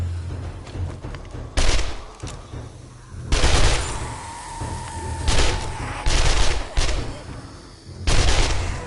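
SMG bursts in 7 Days to Die, several loud, short volleys of rapid automatic fire spaced a second or two apart, close up, with quieter gaps and faint in-game noise between them.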